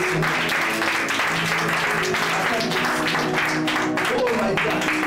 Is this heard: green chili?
no